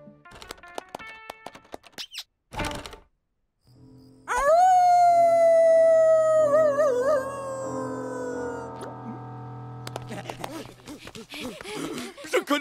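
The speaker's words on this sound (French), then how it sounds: "Je connais ce hurlement." After some brief noises, a dog lets out a long, loud wavering howl that trails off, followed by scattered yips and whimpers.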